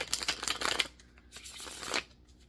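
A deck of cards being shuffled close up, two quick riffling bursts separated by a brief pause, crisp and alone.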